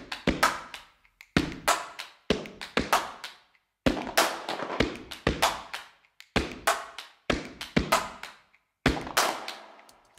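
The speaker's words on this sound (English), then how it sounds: "I have made a short groove with only the HandClap Studio" Short groove of layered hand claps built in the HandClap Studio plugin, sharp percussive clap hits in a steady rhythmic pattern with brief gaps between phrases, close and fairly loud with no voices.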